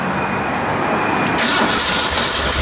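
A 1967 Ford Mustang's 289 V8 cranks and fires on a cold day, then settles into a loud, rough rumble up close. No one speaks over it.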